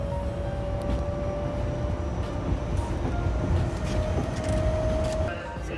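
Steady rumble of a train in motion in Tokyo, heard from inside a crowded carriage, with a faint high whine running through and brief muffled voices.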